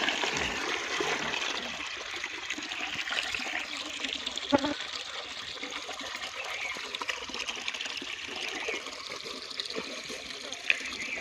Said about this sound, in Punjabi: ਸਰਦਾਰ ਜੀ ਪਨੀਰੀ ਨੂੰ ਪਾਣੀ ਲਾ ਚੁੱਕੇ ਆ